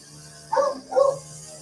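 A dog gives two quick barks a short distance away, moderately loud over a steady low background hum, with no talking.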